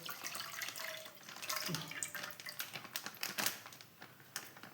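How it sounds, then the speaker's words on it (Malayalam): A full packet of milk pours into a pan for a coconut, milk powder, ghee and jaggery sweet, a faint, continuous liquid splashing and gurgling with light irregular patter. "ഒരു പാക്കറ്റ് പാൽ മുഴുവനായിട്ട് ഒഴിച്ചു കൊടുക്കുന്നുണ്ട്"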